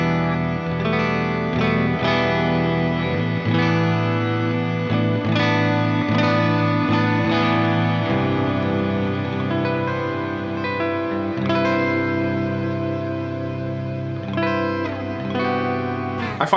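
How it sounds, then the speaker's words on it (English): A guitar rings out with chords and single notes through a reverb pedal set to a large tail, long tails hanging and overlapping between phrases. "it's quite a musical reverb"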